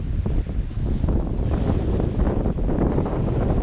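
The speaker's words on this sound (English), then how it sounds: "Very, very windy." Strong sea wind buffets the microphone on the shore at Shotley during sea fishing, a loud, steady roar with gusty low rumbles throughout and no voices.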